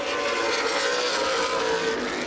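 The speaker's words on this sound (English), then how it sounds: "Most cars single file racing around the track." Late model sportsman stock cars race single file around the Lucas Oil Raceway oval in a 2011 CRA event, a steady loud engine drone filling the whole stretch with no talk over it.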